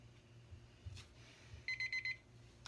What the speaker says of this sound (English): don't wait till you hear the beep